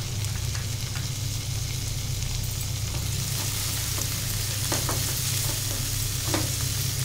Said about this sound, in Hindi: अब हम इसमें टमाटर डालेंगे, टमाटर को भी हम अच्छे से पका लेंगे।